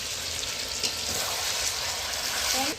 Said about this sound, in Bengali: কাশ্মীর কষিয়ে নেব আর মা মন্দিরের খুব সুন্দর তেল হয়েছিল যে জন্য তেল বেরোচ্ছে দেখলেই বুঝতে হবে দেখো তেল বেরোচ্ছে মাংসের তেল